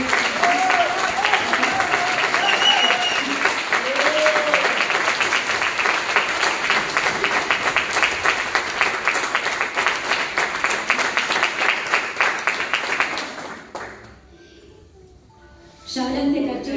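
An audience applauds at an event honouring Cachorro during a book presentation on the Circuito Camps trial, sustained dense clapping that fades out near the end before voices return.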